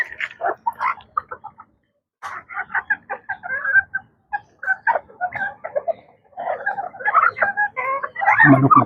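A red bantam chicken clucks nearby in a backyard, giving bursts of quick, repeated clucks and squawks separated by short pauses and ending in a louder, drawn-out call.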